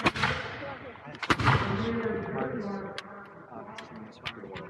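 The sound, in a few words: musket volley fired at war reenactment, Battle of Great Bridge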